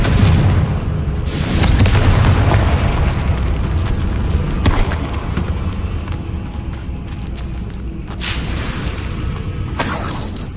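Confringo fire spells in the Hogwarts Legacy video game burst into loud, booming explosions with crackling debris, several blasts in quick succession over continuous rumbling combat noise.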